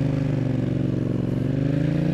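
A mid-size motorcycle, a 125cc-class or Yamaha MT-07, holds a steady, loud engine note with layered harmonic drone, close and continuous with no voices over it.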